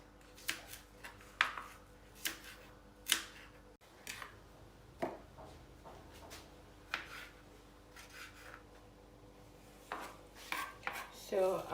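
Carrots are chopped into fine pieces with a knife on a cutting board, making irregular, quiet knocking taps with small scraping sounds between them.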